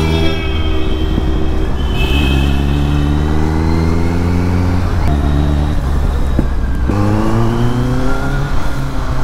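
A Kawasaki Z900 motorcycle with its exhaust revving loud and close, the engine climbing in pitch through repeated throttle blips and dropping back between them, with no voices.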